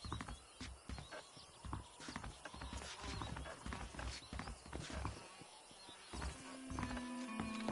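Horse hooves clip-clop steadily at close range in the western video game Red Dead Redemption, with occasional snorting, mechanical creaks and a faint tonal hum near the end.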